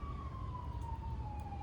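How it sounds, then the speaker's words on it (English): An emergency siren wails faintly in the distance, a single drawn-out descending tone over a low traffic rumble, with no voices. "You hear those sirens?"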